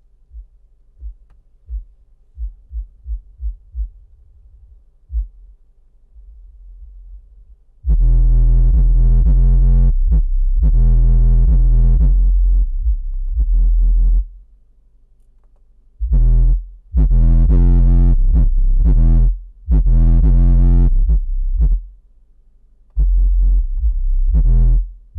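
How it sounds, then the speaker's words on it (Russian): Deep, booming bass music played through a car subwoofer driven by a Hellion HAM 6.80 DSP processor amplifier: a few soft low thumps, then loud sustained bass-heavy bursts that cut in and out in blocks, with no voices. "Вольнем басуху"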